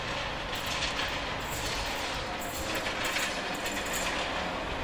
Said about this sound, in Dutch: Vanuit Aken komt deze 215 met een spiksplinternieuwe IRM voor de NS.